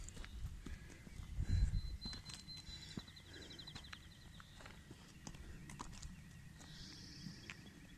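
Donkey hooves clip-clopping on a walk, a loose irregular series of soft thuds and knocks nearby, with a brief louder rustle or bump early on and faint outdoor ambience.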